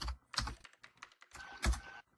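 Fingers tap out a short, quiet burst of keystrokes on a computer keyboard, a few quick clicks in uneven rhythm with brief pauses between them. No one speaks.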